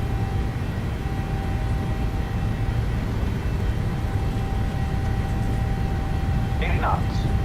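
Steady roar of PMDG 737 jet engines held at takeoff thrust in Microsoft Flight Simulator 2020, a constant broadband rumble with a faint tonal whine throughout, and a brief voice near the end.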